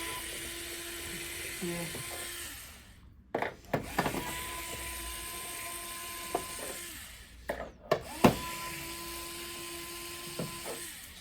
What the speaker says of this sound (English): let's open couple screws